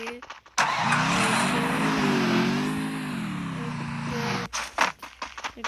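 A vehicle in the game Free Fire starts up, then drives with a steady mid-pitched engine drone that rises and falls in pitch for about four seconds before cutting off, loud and close, followed by scattered clicks and bumps.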